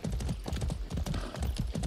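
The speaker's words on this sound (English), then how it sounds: "I can borrow this horse." A horse in the video game Far Cry 6 clip-clops along at a steady walking rhythm, hooves thudding close and fairly loud throughout with no talk over them.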